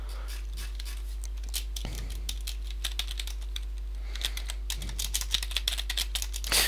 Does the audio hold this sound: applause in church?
no